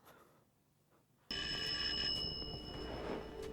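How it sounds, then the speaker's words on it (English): A TARDIS telephone rings from a Doctor Who episode, a bright electronic trilling ring that bursts in suddenly after quiet and continues steadily, loud and close. "I thought it's a phone, but it's a TARDIS."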